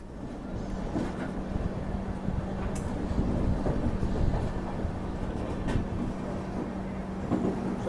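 A New Delhi–Howrah Rajdhani Express rumbles steadily along the rails in first AC class, low droning carriage noise with occasional clicks and squeaks of the wheels, continuous and close.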